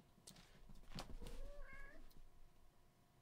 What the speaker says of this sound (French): Regardez le petit chat.